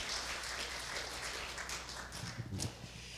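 A Korean church congregation in Seattle applauds during a Sunday worship service, a steady wash of many hands clapping from across a room, with a few louder claps near the end.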